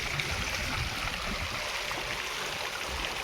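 Water runs from a broken pipeline into field soil in a village, a steady, close rushing and gurgling flow that continues evenly with no voices.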